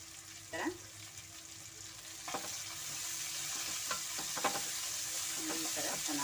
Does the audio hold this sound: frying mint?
yes